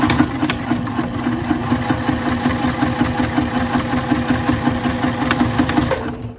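Sewing machine stitching fabric for a trifold wallet, sewing a line along the edge of a card slot; a steady, rapid mechanical hum with regular stitch clicks, close and continuous, stopping at the end.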